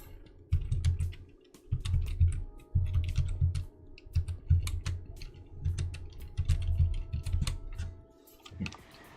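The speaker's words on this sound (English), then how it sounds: "I can't actually see what I'm typing." Keys clack on a computer keyboard during a game stream, in close, uneven bursts of rapid typing separated by short pauses, with no voices.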